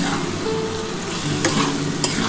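Chopped tomato sizzles and fries in hot oil for a fesha fish curry with potatoes, with a steady hiss and a couple of sharp spatula scrapes against the pan; no talk.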